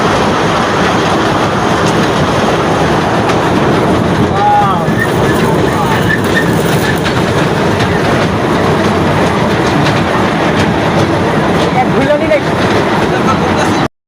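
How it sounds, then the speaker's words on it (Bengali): A mini zoo train runs steadily, its loud, continuous rattle and clatter of carriages filling the scene with wind buffeting and faint voices underneath. "এখন আপনারা শুনতে পারছেন ট্রেনের ছকঝাকানি।"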